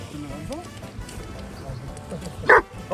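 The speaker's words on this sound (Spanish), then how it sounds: "¡Ay, qué bonito perrito!" A small dog yips and barks a few times nearby at a campsite, with people talking over it.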